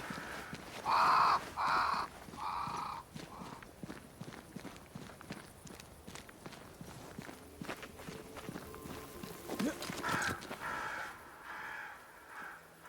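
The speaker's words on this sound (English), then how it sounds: "Crows. They flock to that great tree up there." Crows caw in the video game Banishers: Ghosts of New Eden, several harsh calls clustered at the start and fainter ones near the end, over steady footsteps on the ground.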